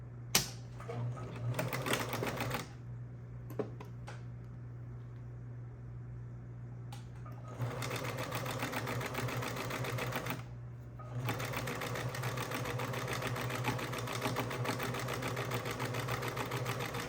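A sewing machine stitches the arm of a fabric island top in two runs, a rapid clattering hum that stops for a few seconds of handling noise, then resumes steadily and close.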